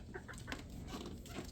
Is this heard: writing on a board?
no